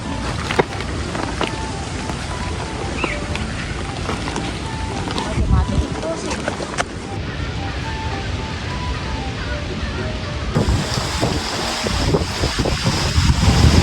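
Strong wind roars steadily across an open spot near a fish market, buffeting the microphone with rumbling gusts, while voices are faintly audible underneath.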